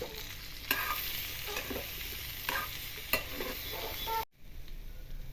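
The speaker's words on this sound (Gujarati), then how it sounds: "બે ત્રણ મિનિટ આ રીતે વધારે શેકતા રહેવું" Patra, colocasia leaf rolls, roasting in a pan with a soft continuous sizzle and a few spatula scrapes and taps, fairly quiet, a brief dropout near the end, no talking.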